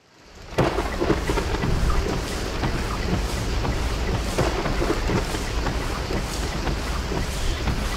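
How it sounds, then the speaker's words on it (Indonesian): Heavy rain drums hard and steadily during a drive on a toll road, with low thunder rumbling under the dense downpour, loud and close throughout. "posisinya itu lagi hujan deras banget nih"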